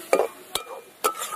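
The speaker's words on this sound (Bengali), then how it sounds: "সব কিছু দিয়ে এবার ভালো করে মশলাটাকে কিন্তু কষিয়ে নিতে হবে" A spoon scrapes and stirs a spice mixture of turmeric, salt, coriander powder and chopped coriander leaves frying in a pan, three distinct strokes with a soft sizzle between them, close and alone.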